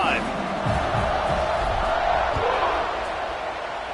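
Crowd noise in a college football video game, Virginia versus Clemson, as a stadium roar rumbles steadily beneath a commentator's voice during a kickoff.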